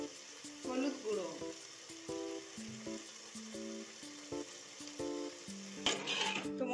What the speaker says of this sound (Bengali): মশলাটা খুব ভালো করে মিশিয়ে কষিয়ে নিতে হবে, আঁচটা মিডিয়াম করে